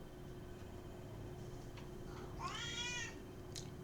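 A cat sitting in a cardboard delivery box lets out one drawn-out meow, quiet and a little distant over a steady background hum, with a faint tick just after.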